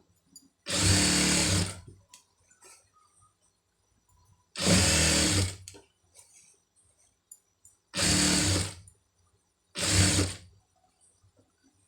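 A sewing machine stitches thread piping in four separate bursts of steady, fast mechanical whirring, each lasting about a second, with quiet handling sounds in the pauses between.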